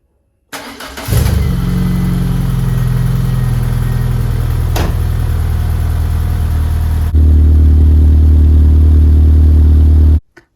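A Citroen Saxo VTR engine cranks and catches, then settles into a loud, steady petrol idle with a brief clunk partway through. A deeper, louder running note follows before the engine cuts off abruptly.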